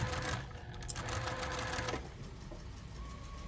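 A sewing machine back-stitching the corner of a toiletry bag runs in a steady close whir, then eases off into quieter low hum toward the end.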